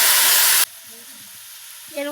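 A spice masala fries in a loud, hissing sizzle that stops abruptly, followed by quieter sounds of tomato paste going into the pan and a brief rise in bubbling at the end.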